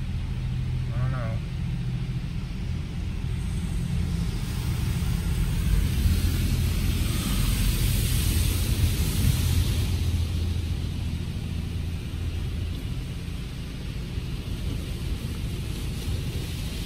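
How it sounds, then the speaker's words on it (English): Automatic car wash machinery running around a Subaru, a steady loud rumble and wash of spray and brushes sustained throughout, with a brief higher squeal near the start. "It's a fairly long car wash"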